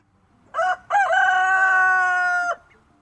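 A young rooster crows once in its coop, a loud close call with a short opening note and a long, sustained, slightly rough tone that ends abruptly, with no voices.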